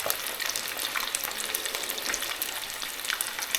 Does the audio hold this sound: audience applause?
no